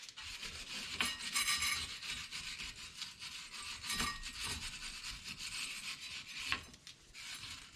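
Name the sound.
wire brush scrubbing a BMW 330xi brake rotor mating surface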